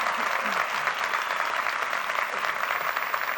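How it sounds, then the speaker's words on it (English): Graduates at a 1999 National University commencement applaud themselves, a dense, steady wash of many hands clapping that fills the hall at an even level throughout. "Really, applaud yourself."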